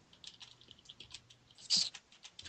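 Quick, light keystrokes patter on an Xbox keyboard in a quiet room, a run of soft clicks with one sharper, louder tap near the end.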